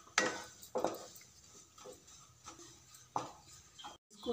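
A spoon scrapes and knocks against a pan while besan (gram flour) is stirred and roasted, giving soft, irregular clinks every half second or so, faint and alone.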